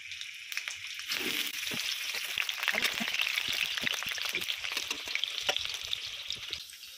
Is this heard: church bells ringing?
no